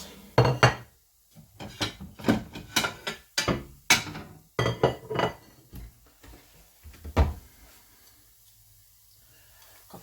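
Plates and cutlery clattering while breakfast is served in a home kitchen, a run of sharp ceramic and metal knocks in uneven bursts that thin out toward the end, close by and with no talk.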